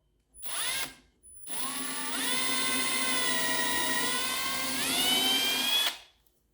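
A power drill whirs steadily as it bores a pilot hole into a wooden board for a cookbook stand using a T25 bit, with a short burst first, then a longer run that rises in pitch near the end, alone and close.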